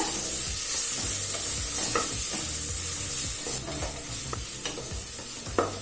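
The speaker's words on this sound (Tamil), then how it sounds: "இப்போ மிக்சியில அரைச்சு வச்சிருக்க மசாலாவை இதுல சேர்த்துக்கலாம். நல்லா வதக்கிக்கோங்க." Ground masala for chana biryani sautéed in a pan, with a continuous close sizzle and frequent scraping stirs of a spoon throughout.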